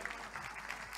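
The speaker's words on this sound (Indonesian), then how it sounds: "Tepuk tangan buat beliau" Applause from an audience at an Islamic religious gathering in Semarang, a brief burst of steady clapping filling the moment with no voices over it.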